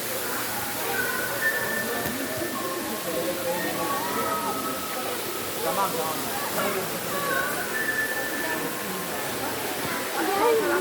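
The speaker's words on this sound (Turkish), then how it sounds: "Güzel bir şelale yapılmış." Steady rushing water from an artificial waterfall in a tropical butterfly garden fills the whole stretch as a continuous hiss. Chirps rise faintly above it and people talk in the background.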